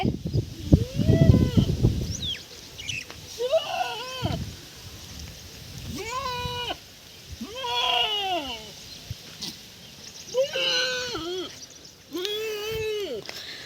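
Several sheep bleat in turn, loud and close, with a few overlapping calls and faint background noise between them.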